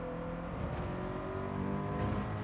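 In a racing video game, a race car's engine builds as it accelerates out of a corner, a faint, continuous rising drone with layered engine tones.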